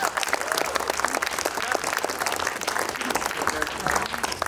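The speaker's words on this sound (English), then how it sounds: "One more round of applause." Sustained applause from a large crowd at a retro gaming expo cosplay contest, dense clapping continuing steadily at even loudness for several seconds.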